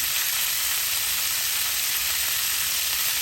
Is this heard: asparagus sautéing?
yes